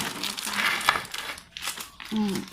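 A plastic bag covering a container of homemade fermented liquid plant fertilizer crinkles in close, loud bursts of rustling while someone talks over it.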